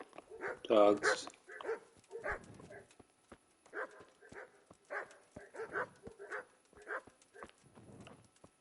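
Dogs bark in the medieval video game Kingdom Come, a loud burst of yelps at first and then repeated barks every half second or so, mixed with someone talking.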